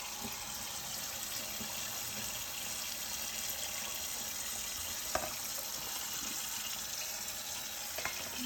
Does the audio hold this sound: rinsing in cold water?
yes